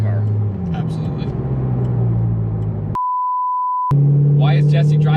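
C6 Corvette Z06 engine running through gear changes from inside the car, its droning note stepping in pitch, cut by a long censor beep and overlapped by talking voices.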